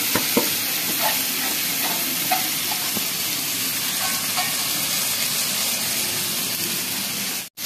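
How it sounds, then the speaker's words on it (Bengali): Spice masala being stirred and fried with dalia (broken wheat) in a wok, giving a steady sizzling hiss with scattered scraping stirs, close by and continuous, no talk. "এবার পুরো ডালিয়াটা দিয়ে দেবো আর ধরে নাড়াতে শুরু করে দেবো, মানে কড়াইটা।"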